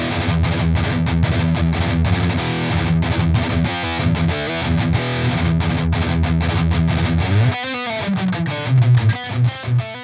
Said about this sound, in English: The first Metal Zone sounds like this.